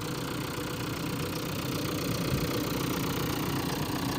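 A Renault Kangoo 1.5-litre engine idles with a steady, even rumble and a faint rhythmic ticking, close up and continuous throughout.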